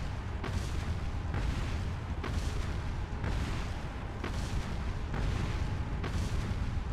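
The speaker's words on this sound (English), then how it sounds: "you can just chuck a flash grenade and kill it." Flash grenade blasts go off in the video game Resident Evil 4, a loud run of heavy booming bursts about one second apart over constant rumbling noise.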